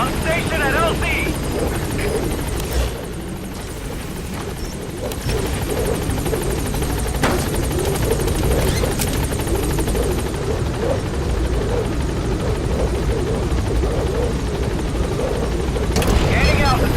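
Helicopter idling and hovering at a landing zone in the video game Metal Gear Solid V, a steady loud rotor and engine drone throughout, with voices talking over it.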